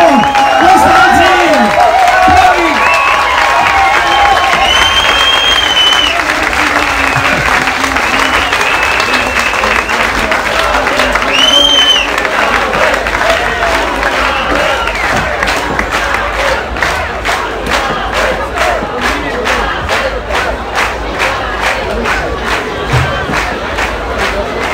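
A concert crowd applauds and cheers for soloists after a set at Bächtlefest 2023. The loud, sustained clapping carries shouts and whoops, then settles into steady rhythmic clapping in time.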